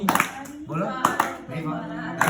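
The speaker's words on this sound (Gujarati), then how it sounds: "તાળી પાડો મારા રામની રે" Hands clap in rhythm with a devotional song to Ram during a Satyanarayan katha at Shivam Hospital in Mansa, sharp beats landing roughly every half second under singing voices.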